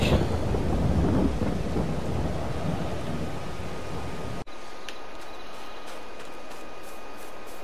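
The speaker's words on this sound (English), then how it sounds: "Wait until the rain stops, I think." Video game rain in Farming Simulator with rumbling thunder, a loud steady downpour that cuts off abruptly midway, leaving near silence with faint ticking.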